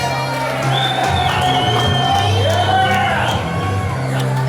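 Indie pro wrestling crowd at No Fold Pro Wrestling in Murphysboro cheering Dave Walker's entrance: sustained loud shouts, whoops and yells over a dense roar, with commentators talking over it.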